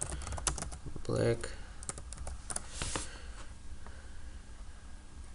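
Quick clicking keystrokes on a computer keyboard while a search is typed into Google, a steady patter of close taps running through the whole stretch, mixed with occasional speech from a person nearby.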